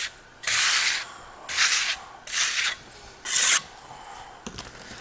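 A spatula spreads a Marmorino lime plaster bed coat across a wall in four even rasping strokes, each about a second long with short gaps, close and fairly loud, followed by a faint scrape.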